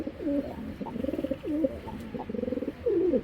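A green-necked pigeon coos in repeated rolling, throaty phrases, close and clear, with short pauses between bursts and no talk over it.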